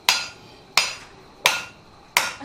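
A slightly underweight blacksmith hammer strikes half-inch steel stock during forging, four sharp, ringing blows at an even, unhurried rhythm, each close and loud with a short decay and no talking.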